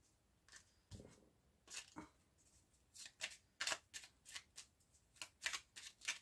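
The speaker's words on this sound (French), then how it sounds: "j'ai bien mélangé les cartes" Tarot cards being shuffled by hand, a series of quiet, close riffling bursts in an uneven rhythm with short pauses between them.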